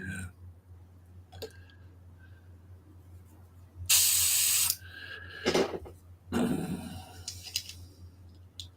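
Airbrush spraying paint onto a sci-fi model, with bursts of steady hiss of about a second each, one longer blast and a couple of shorter ones, close by in a quiet room with a low hum underneath.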